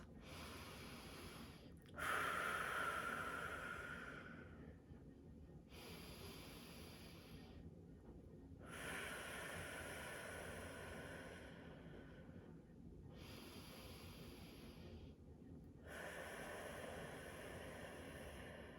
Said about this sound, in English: let's take some deep breaths.